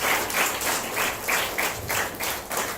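Steady applause from an audience honoring a pastor, a dense run of clapping with rhythmic surges, loud and continuous throughout with no talk over it.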